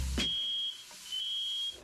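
A high electronic smoke alarm beeps in two long, steady tones separated by a short gap, loud and close, in a kitchen during cooking.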